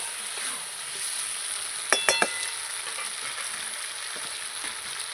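Meat sizzles and fries steadily in a pan while being stirred, with a few sharp clinks of the utensil against the pan midway, close and alone with no voices.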